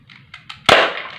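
A few light mechanical clicks, then one sharp, loud shot from a fully upgraded Desert Eagle airsoft pistol with a brief ringing tail, close by.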